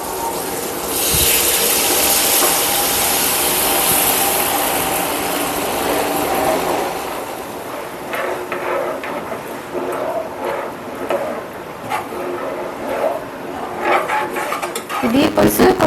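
Soaked tamarind pulp is poured into a pot of fish curry, giving a steady liquid gush for several seconds. Softer pot clatter and stirring follow, with brief bits of talk.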